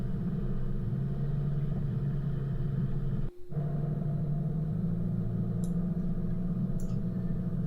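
A car rolls over a lumpy track on a Mt Sarah outing, its steady low rumble and road noise filling the whole stretch, with a brief dip midway and faint ticking knocks near the end.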